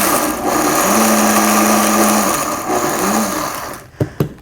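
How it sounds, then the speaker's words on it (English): A kitchen blender roars loudly in a couple of short bursts while pulsing granola ingredients, its motor pitch dipping between pulses, followed by a few clunks. "So let me make sure my blender is on, and I'll just quickly pulse this."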